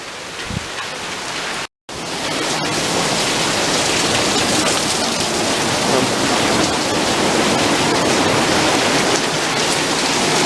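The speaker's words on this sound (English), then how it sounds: "The rain's coming that heavy." Heavy hurricane rain pours down steadily in a dense, loud hiss, with a brief dropout near the start before the downpour continues unbroken.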